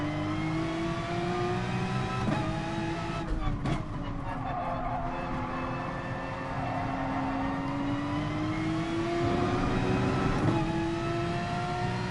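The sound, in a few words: car engine revving while spinning, Gran Turismo Sport video game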